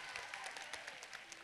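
A debate audience at a World Scholar's Cup junior debate showcase gives a short burst of dense, faint applause that fills the room evenly for about a second and a half.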